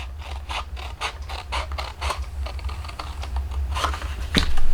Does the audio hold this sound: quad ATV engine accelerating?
no